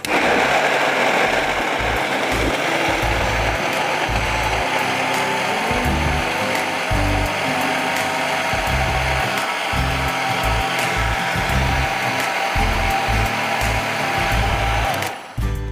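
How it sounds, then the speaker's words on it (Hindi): A blender runs continuously at full power, chopping pineapple fruit with a loud, steady motor roar and irregular low churning thumps, then cuts off abruptly at the end. "ये अब हम क्या करेंगे, इसको हम ब्लेंड करेंगे।"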